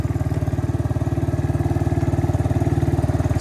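A beginner four-wheeler ATV engine idles steadily at barely any throttle, its rapid even putter loud and close with no other sound over it.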